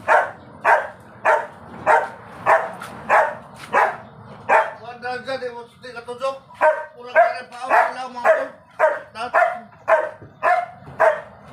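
A dog barks repeatedly at close range beside a twin-tub washing machine that has a broken gear case. The barks come in a steady, insistent rhythm, with a brief whimpering whine in the middle and people talking underneath.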